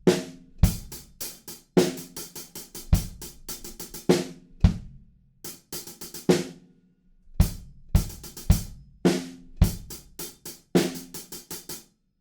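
A drum kit plays a groove with busy, rapid hi-hats over kick and snare hits, close and dry, repeating as a two-bar pattern with no voices.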